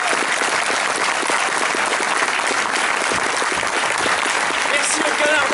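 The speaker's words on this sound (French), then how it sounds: "J'aimerais que vous applaudissiez notre troupe et notre jeune troupe" An audience applauds a young theatre troupe, with steady, loud, dense clapping throughout that never lets up.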